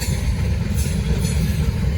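A Norfolk Southern freight train rolls past close by, a loud, heavy rumble with a steady rhythmic clatter of rail cars.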